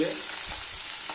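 Mustard seeds and dried red chilli frying in hot oil, a short continuous sizzle and crackle close up, with faint stirring.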